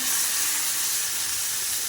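Fish frying in a pan for a pumpkin fish curry, giving a steady, loud, dense sizzle with no pauses, alone without talk.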